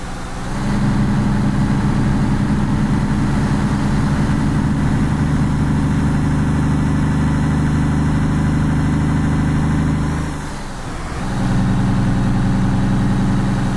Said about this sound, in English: Starting to get used to the sound of the engine a little bit.